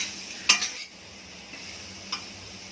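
Raw mango pieces are sautéed with spices in a pan, with a couple of sharp spoon-against-pan stirring clinks over a soft, continuous background sizzle, close up and without talk.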